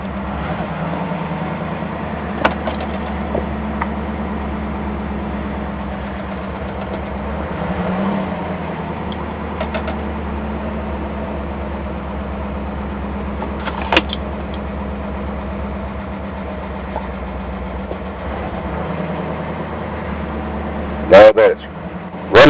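The engine of a 1965 Mercury car idles steadily after a cold start, a low continuous rumble heard close, with someone talking over it and a few brief clicks and knocks.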